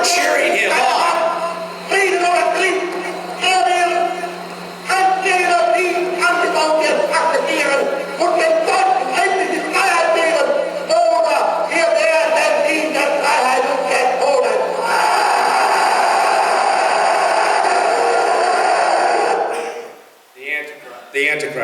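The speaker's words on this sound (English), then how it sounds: "Look how the people are cheering him on." A large crowd cheers and roars at a rally where Hitler addresses his people, a dense sustained wall of voices and chanting that carries on steadily, then cuts off abruptly near the end.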